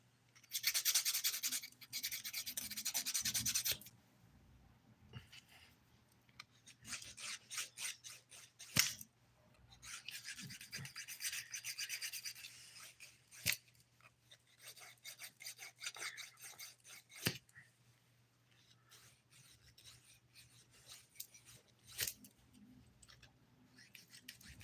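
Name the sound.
filing fingernails with a nail file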